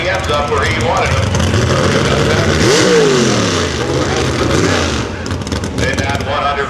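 A nostalgia super or pro stock pulling tractor revs at a tractor pull, its engine climbing in a rising then falling sweep around the middle, loud and close over crowd noise and an announcer talking throughout.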